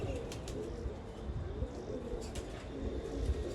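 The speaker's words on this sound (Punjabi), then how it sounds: "ਹੁਣ ਮੈਂ ਤੁਹਾਨੂੰ ਦੋਵੇਂ ਕਬੂਤਰ ਇਹ ਜਾਲ ਦੇ ਵਿੱਚ ਛੱਡ ਕੇ ਵਿਖਾਉਣਾ" Two pigeons, purebred racing or flying stock, coo softly in low repeated murmurs inside a net enclosure. The calls are close and steady, with faint chirps and rustling and no voices.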